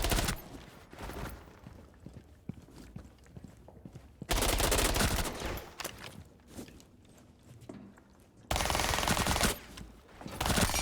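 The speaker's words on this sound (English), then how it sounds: "So just mag dump a wall until you can control it" A Rainbow Six Siege magazine dumped into a wall: three long, loud full-auto bursts, each a dense unbroken stream of shots, separated by quieter gaps with faint footsteps and clicks.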